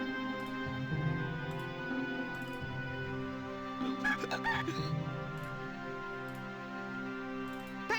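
Drunk rooster in the Discworld II video game clucking and squawking in short bursts over a steady humming game background, close and clear.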